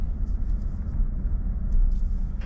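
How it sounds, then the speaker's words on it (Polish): A car engine runs with a steady, fairly loud low rumble, heard from inside the vehicle without talk. "Uruchamiam samochód"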